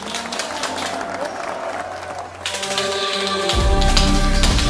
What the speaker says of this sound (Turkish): Hiç alkışları kesmiyoruz